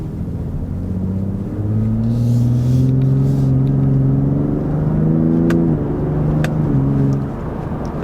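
A 2023 Ford F-150 Raptor, a torquey engine with a 10-speed automatic, builds revs from a low rumble to a steady drone with rising tones, shifts around midway and eases back toward the end.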